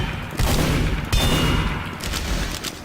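Two loud, close gunshot bursts from the Scout's scattergun in Team Fortress 2, each a sharp booming blast with a short rumbling tail, the second following about half a second after the first, with no talk.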